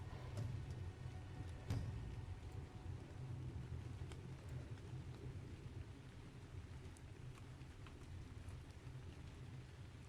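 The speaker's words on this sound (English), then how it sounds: "Oh, it's a fucking storm going." A thunderstorm in the modded survival game Ark brings a steady, dense rumble of heavy rain with low thunder rolling through it and a sharper crack near the start.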